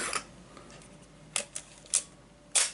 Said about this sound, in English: to the right hand side we have the wind on lever